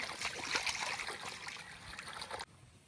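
Helencha greens are washed by hand in cold water, with a steady close splashing and trickling that runs alone and cuts off sharply near the end.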